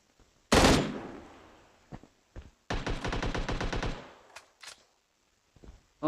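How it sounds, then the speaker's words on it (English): Gunfire in the video game PUBG: a loud single blast, then a rapid automatic burst of about a dozen shots, followed by a few scattered sharper cracks, with quiet gaps between. "I think some guy just tried shooting at us."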